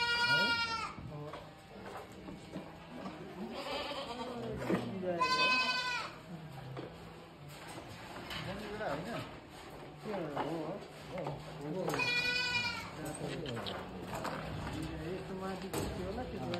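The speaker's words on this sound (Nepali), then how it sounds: "हामी कहाँ विभिन्न जातका बोर बारबेरी बित्तल जमुना पारे बाख्राको बोकाहरू पाइन्छ" Goats of several breeds, including Boer, Barbari, Beetal and Jamunapari, bleat repeatedly at a goat farm in Rolpa, Nepal, with loud nearby calls over a busy, crowded background.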